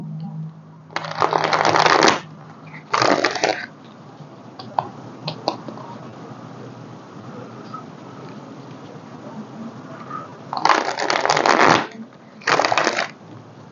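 Oracle cards with a slick coated finish are shuffled close up in several loud riffling bursts, separated by quieter stretches with a few small clicks and taps.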